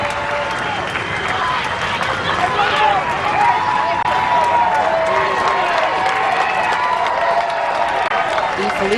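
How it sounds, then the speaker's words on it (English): Softball crowd giving a standing ovation, sustained applause, cheering and crowd noise filling the whole stretch, loud and continuous with a dense murmur of voices underneath. "Felice gets a standing O from the crowd."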